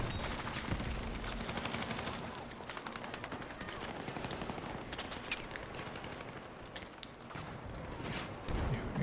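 Shotgun fire in Battlefield 6 amid a dense, continuous battle soundscape: bursts of gunshots crackle and pound nearly nonstop at a steady, loud level, with one sharper blast standing out near the end.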